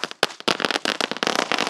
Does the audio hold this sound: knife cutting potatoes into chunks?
no